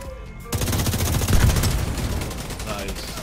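Rapid automatic gunfire from The Division 2 during a Tidal Basin stronghold fight against a tank, a dense, loud, continuous burst of shots after a short quiet start, with a voice talking underneath.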